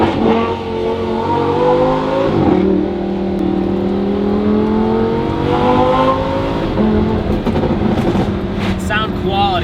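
Lamborghini Huracan LP610-4 with factory catalytic converters revving hard, rising harmonic engine wail climbing and falling through repeated pulls with a gear change, loud and close, with crackle near the end.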